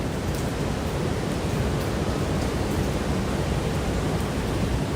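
Steady, loud roar of typhoon wind and pounding surf on Sabang Beach in Baler, Philippines, a dense broadband rush filling the whole stretch without pause and with no voices.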